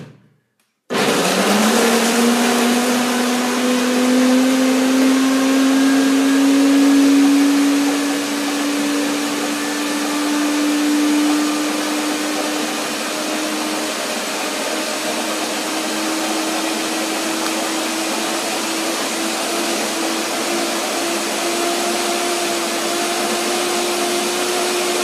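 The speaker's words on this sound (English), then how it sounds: "So now again, I blend again and make it creamy now." A blender whirs steadily and loudly for about 24 seconds, creaming a raspberry lemon cream pie filling with lemon zest, its motor pitch rising slowly as the mixture smooths, with no talking.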